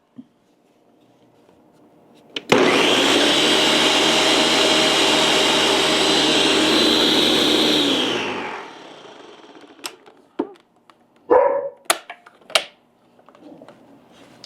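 A blender with water runs loudly for several seconds with a churning whir, rinsing out leftover vegan gravy mixture, then stops, followed by scattered clicks and clattering knocks.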